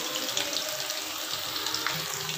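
Masala-coated cauliflower frying in hot oil, a steady, dense hiss and crackle throughout with small pops, close and continuous, with no voices.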